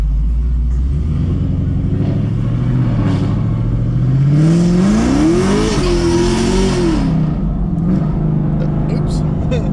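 Chevrolet Camaro ZL1 doing a rolling burnout on a wet main town road: a loud, close V8 rumble climbs into a rising rev, peaks with screeching tires and roar, then settles back to a throaty idle.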